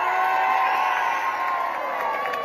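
A crowd cheers and whoops for the women, a dense, loud wash of voices that holds steady throughout, with shouting children mixed in.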